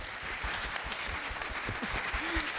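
Applause from the audience at a conference debate on the isolation of older people, a soft, steady patter of clapping that carries on evenly throughout.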